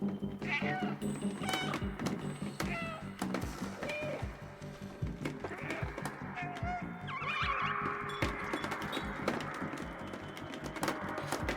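A cat meowing in the video game Stray, several short meows and cries spread across the clip over game sounds and clatter, fairly close and clear.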